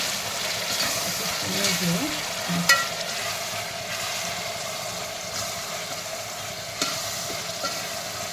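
Ginger garlic paste frying in a pan while being stirred for mutton biryani, a steady sizzle with scraping spoon strokes, close and continuous, with no talk.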